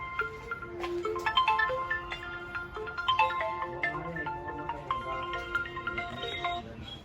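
A phone ringtone plays a repeating melodic pattern of bright electronic tones for about seven seconds at steady, moderate loudness as an incoming call comes in, with no talking over it.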